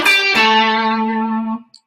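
Electric guitar through a common distortion effect plays one sustained, harmonically rich chord, loud and close, ringing for about a second and a half before being cut off, with no talk over it.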